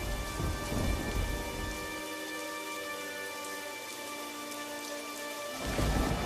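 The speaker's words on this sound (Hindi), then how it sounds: "तभी अचानक से जोर का तूफान आया" A thunderstorm brings steady heavy rain that hisses throughout, while deep rolling thunder swells at the start and again at the end.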